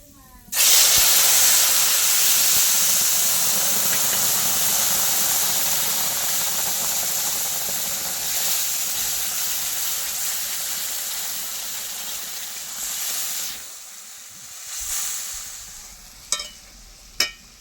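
Black cumin and ground spice paste hit hot oil in a pan with a sudden loud sizzle and hiss that gradually eases over many seconds, ending with a few brief clinks.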